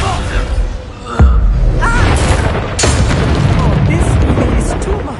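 Bombarda and Confringo spells exploding in Hogwarts Legacy: a heavy boom lands early, then another sharp blast, with dense rumbling debris and game effects continuing loudly throughout.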